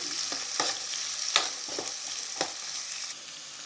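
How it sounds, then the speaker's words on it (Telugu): Onion frying in oil for a spicy vegetable fry, with a bright sizzle broken by repeated sharp spatula strokes and stirring scrapes at an irregular rhythm, close and clear, with no voices. "నెక్స్ట్ ఆనియన్ అండి. బాగా ఆయిల్లో ఫ్రై అవ్వాలి."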